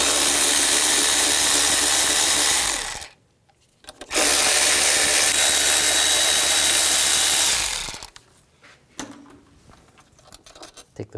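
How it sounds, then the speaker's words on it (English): A power tool running a 10mm socket to remove the bolts and nuts from a Toyota Matrix throttle body gives two long loud whirring bursts separated by a short pause, then fades to faint clicks and handling. "And then there's 2 bolts and 2 nuts to take off. Use a 10mm socket."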